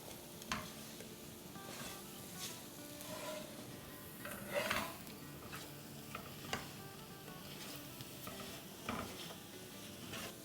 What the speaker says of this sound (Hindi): हमने चूल्हा जो है इसको मीडियम लो कर देते हैं और अब इसको हम अच्छे से भूनते हैं।